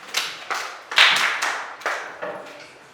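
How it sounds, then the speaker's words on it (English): A classroom of students clapping for a classmate in a physics class, a short burst of bright, close applause with sharp claps fading over a few seconds, no talking. "clap for her"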